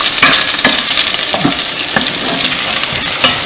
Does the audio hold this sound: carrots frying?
yes